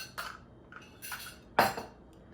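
Dry ingredients for Liberian rice bread being stirred in a bowl, three brief scraping, clinking strokes of utensil against the bowl, close and quiet, the last one loudest.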